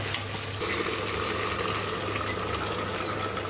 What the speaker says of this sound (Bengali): আর এই যে মাংসতে গরম পানি দেব